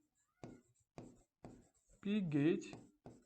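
Equations are written on a board during a fluid mechanics lecture. Short, crisp writing strokes tick out at a steady pace, close and fairly quiet, and a voice briefly speaks in the middle.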